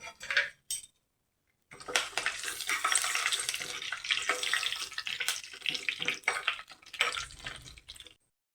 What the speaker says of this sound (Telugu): ఆవాలు, జీలకర్ర ఇవన్నీ వేసి మంచి రంగు వచ్చే వరకు ఫ్రై చేయాలండి.